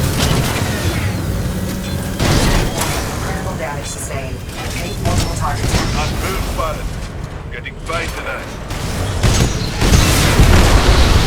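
Explosions in the video game Titanfall 2: heavy, loud booms and bursts of blasts crowding one another over a continuous rumble, with a voice talking through the din.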